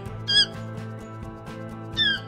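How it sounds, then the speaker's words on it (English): A toucan gives two harsh, squawking calls about a second and a half apart, each brief and piercing, over a steady humming tonal background. "Known for its large, brightly colored bill and striking plumage, the toucan is a charismatic and iconic representative of avian diversity."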